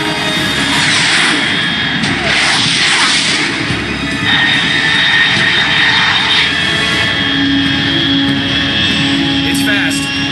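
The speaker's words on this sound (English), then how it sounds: "Unidentified aircraft detected." A fast jet aircraft roars overhead in the Metal Gear Solid 3 game, a loud sustained engine rumble and whine with a voice speaking over it.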